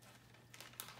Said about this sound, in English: the charger itself, I'll cut it open